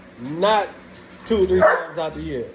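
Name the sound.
dog barking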